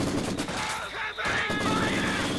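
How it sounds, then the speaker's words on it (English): Rapid machine gun fire in the Company of Heroes video game, dense sustained bursts filling the whole stretch with only a brief dip near the middle, loud and close. "Machine gun"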